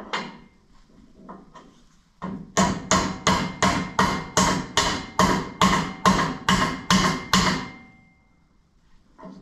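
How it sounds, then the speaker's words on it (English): Hammer tapping a bearing into a driveshaft yoke on a 1983 GMC K2500 pickup, a few light taps followed by a run of about fifteen evenly spaced, sharp metallic blows, close and loud, then quiet. "I'm gonna do the right thing and just tap this thing in with a hammer"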